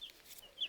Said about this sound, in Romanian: Ia uite, mama, puiul de găină.